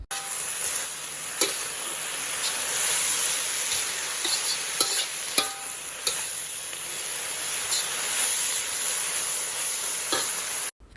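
Bean sprouts stir-fried with salted fish and spring onion, stirred in a pan after the stove has been switched off, giving a dense steady sizzle broken by sharp scraping clicks of the spatula, close and loud.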